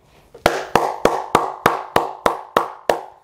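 Hands clapping in applause, nine sharp, evenly spaced claps at a moderate pace, close and loud, with no talking.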